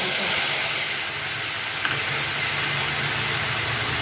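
Cashew paste frying in hot oil with garam masala, giving a steady, loud broadband hiss that holds evenly throughout.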